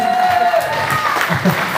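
A concert crowd applauds and cheers at the end of a song, loud and dense for under two seconds, with a held tone lingering from the stage.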